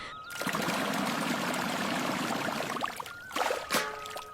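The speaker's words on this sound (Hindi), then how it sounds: "सबसे पहले वो पानी भरता" Water pours steadily into a container as it is filled at a small tea stall in the early morning. A close, splashing stream runs for several seconds, then breaks into a few uneven splashes and knocks, with no talking.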